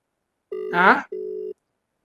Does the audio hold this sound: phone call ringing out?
yes